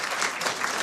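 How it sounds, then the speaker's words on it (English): Applause from an audience at a Scientific Horizons academic event, a brief burst of dense steady clapping at moderate level with no voices over it. "Let's give you another applause to welcome you back."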